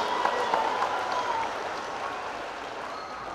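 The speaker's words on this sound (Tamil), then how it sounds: "நண்பர்களே உங்களுடைய பலமான கைத்தட்டல் ஒன்று அவரை வரவேற்க வேண்டும்." Strong, sustained applause from a large audience welcoming a guest at a scholarship event, a dense even wash of clapping that stays loud throughout and eases slightly toward the end.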